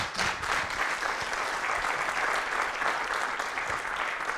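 An audience applauds at the end of a conference talk on sensors and technologies for cultivated soils, a steady, even wash of many hands clapping, moderately distant and unbroken for several seconds.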